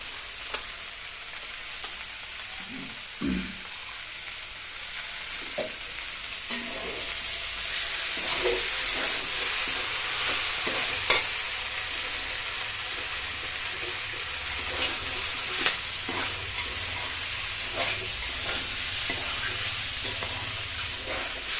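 Cumin, ginger, green chili and pepper fry in a hot pan, a continuous sizzle with scattered crackles and occasional stirring scrapes, fairly close and steady, with no voices.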